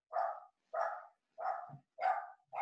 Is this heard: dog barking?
yes